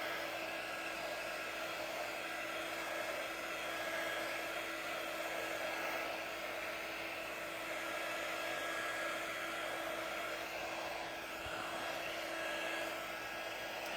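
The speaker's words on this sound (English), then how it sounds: "All right, so we are drying this real quick." A dryer blows air in a steady, droning whoosh with a high motor whine, constant and close for the whole stretch, with no voices.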